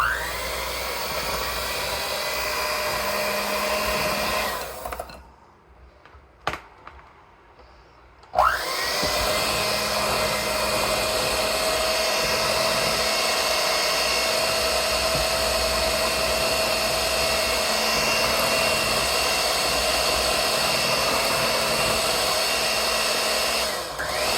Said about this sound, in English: I get my mixer out. And I mix it really good for a long time.